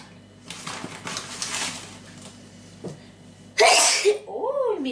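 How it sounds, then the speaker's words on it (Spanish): A single loud sneeze bursts out near the end of a kitchen scene, following quieter shuffling and background sounds, with a squeaky rising-falling trail right after. "Madre mía, qué estornudo."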